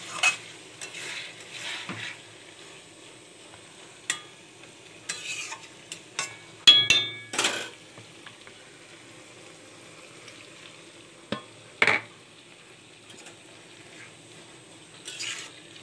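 Food stirred and mixed in a pan while cooking, with scattered scraping and clinking strokes of a utensil against the pot over a faint low sizzle, near and fairly quiet with gaps between bursts.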